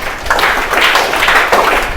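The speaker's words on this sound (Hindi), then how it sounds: "गुड ताली बजाओ इसके लिए" Classroom students clapping together in a sustained burst of applause, fairly loud and close, with irregular bursts and no talk over it.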